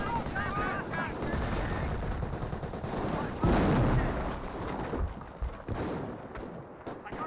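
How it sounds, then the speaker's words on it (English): A Company of Heroes battle with rifle and machine-gun fire crackling in rapid bursts under continuous rumbling game noise, with a heavier blast midway and a voice speaking over parts of it. "Scope rifles and Piet squad engaged in some Volksgrenadiers."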